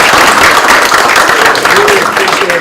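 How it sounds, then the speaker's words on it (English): Loud, sustained applause from a seminar audience thanking panelists at a Japan marketing event, dense clapping held at an even level throughout, with a murmur of voices beneath. "please join me in giving a round of applause to our panelists"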